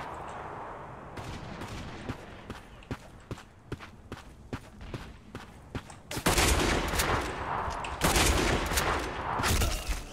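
Gunfire in the online shooter Black Squad: sharp rifle shots crack in a rapid irregular series, building into dense, louder bursts of automatic fire toward the end.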